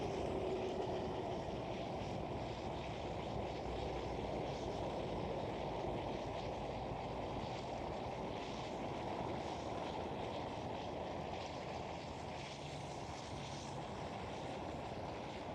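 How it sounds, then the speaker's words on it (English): An airliner approaching straight on, a steady, broad rumble of engine noise that holds even and moderately loud from start to finish with no talk over it. "This aircraft, by the way, is coming from the east-southeast, coming straight towards me."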